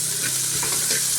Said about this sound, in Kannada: ಕ್ಯಾಪ್ಸಿಕಮ್ ಹಾಕೊಂಡ ನಂತರ ಫ್ರೈ ಮಾಡ್ಕೊಳ್ಳೋಣ